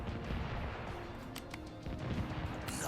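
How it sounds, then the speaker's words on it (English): Cannon fire from a naval battle in the strategy game Divinity: Dragon Commander: a dense, continuous barrage of booming shots and crashes, loud and close, with several sharper bursts cutting through the roar. "Warming up the cannons."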